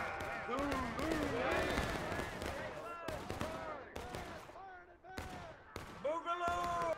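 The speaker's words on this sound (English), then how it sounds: "Open fire, open fire, open fire." Musket volleys crack repeatedly in the Civil War game War of Rights on the Piper Farm map, several sharp near shots spread across the battle amid constant shouting voices.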